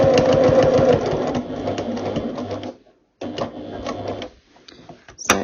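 A sewing machine stitches binding onto a quilt edge in close, loud runs of rapid mechanical chatter, pausing briefly before starting again, with a few clicks and handling knocks near the end.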